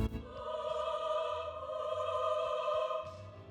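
A female choir sample from a song, heard raw and unprocessed: sustained, layered voices hold steady chords for about three seconds, full and fairly loud, with a fresh swell near the end and no talking.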